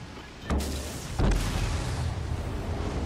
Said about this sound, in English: I'm getting popped by torpedoes.